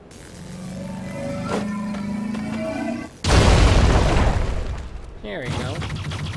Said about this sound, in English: Grenades of some kind.